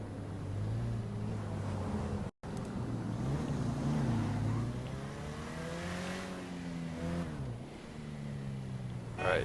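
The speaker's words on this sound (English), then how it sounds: "We're going to start off by just driving down the street" Car engine driving down a street at night in GTA V, a loud steady drone that rises and falls in pitch as the car accelerates and shifts, with a brief cut partway through.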